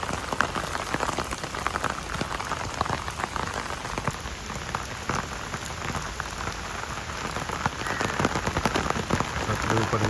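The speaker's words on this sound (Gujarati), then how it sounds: "ઉપર વરસાદ આવે છે." Heavy monsoon rain falling near the Tapi river below the Ukai dam, a loud, continuous roar of downpour with a dense drumming of drops, unbroken for the whole stretch.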